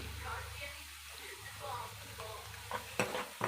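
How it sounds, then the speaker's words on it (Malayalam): Chopped onions sautéing in a pan for a Kerala-style pumpkin curry, a soft steady sizzle with occasional stirring scrapes and clinks, close up and moderately quiet, under faint background speech. "ഇതാ നമ്മുടെ ഉള്ളി വഴന്ന് വന്നിട്ടുണ്ട്"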